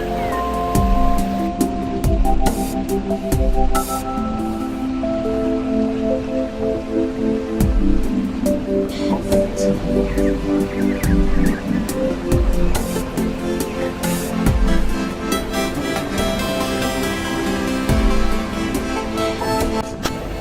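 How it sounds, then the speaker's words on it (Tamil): A flowing stream in Munnar, tumbling like a small waterfall, gives a steady, close, dense rush of water that stays constant throughout, with faint tonal sounds beneath it. "நீரோடை. இதுவும் அழகாக இருக்குல்ல ஃபால்ஸ் மாதிரி."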